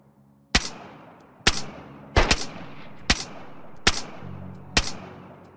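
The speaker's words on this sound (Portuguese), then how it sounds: "Nossa, errei 4 tiros nele." Gunfire in the survival game DayZ: six sharp, loud shots fired singly at uneven intervals over a few seconds, each followed by a short decaying echo, with no talking.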